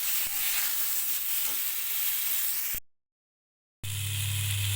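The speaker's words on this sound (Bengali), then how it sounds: "পেঁপে দিয়ে দিয়েছি, এবার ভালো করে নেড়ে দেব।" Papaya fries in hot oil in a wok, giving a steady loud sizzle as it is stirred. The sound cuts out for about a second, then a fainter hiss and hum return.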